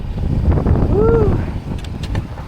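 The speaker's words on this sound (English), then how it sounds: "The wind is blowing." Cold wind blowing steadily outdoors in snowy woods, a continuous loud roar buffeting the microphone, with a brief whistling tone and faint voices in the background.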